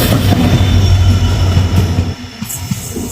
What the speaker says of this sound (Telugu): డీజిల్ ఇంజన్ అనమాట.